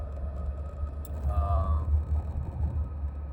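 Steady low road rumble and engine drone fill the inside of a moving car, with a brief faint jingle partway through.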